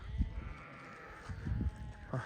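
Hissar sheep bleat in short, nasal bursts close by, with a couple of calls overlapping toward the end, over a steady outdoor murmur of farm background noise.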